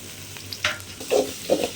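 Ginger garlic paste frying with onions in a pan for a quail pepper gravy, heard as a soft sizzle with a few short stirring scrapes close by.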